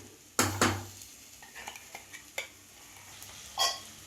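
Smashed dry dates being stirred and fried in a pan for a sugar-free dry fruit burfi, with a couple of loud clanks of the spatula against the pan followed by softer scraping and light sizzle.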